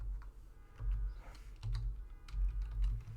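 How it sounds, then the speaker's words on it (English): Soft, sparse clicks of keys on a computer keyboard as network commands are entered, a few quiet taps and presses spread across a few seconds over a low background hum. "Press tab, write, press enter."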